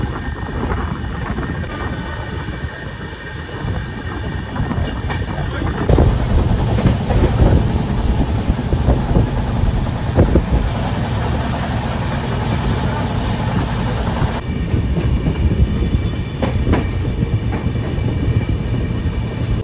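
22387 Black Diamond Express, running from Howrah to Dhanbad near Durgapur, heard from on board: a loud, continuous rumble of wheels on rails with a steady clatter and hum that swells as the train gathers pace.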